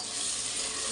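Dried shrimp frying hard in hot oil for a Telugu amaranth-leaf pulusu, a loud steady sizzle filling the moment with no voices.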